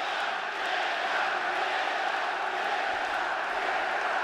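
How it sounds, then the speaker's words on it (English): Fight crowd at a UFC bout between Sean O'Malley and Petr Yan cheering and roaring steadily throughout, a dense continuous wall of arena noise with no clear gaps. "Pro Jan crowd being heard from early as expected."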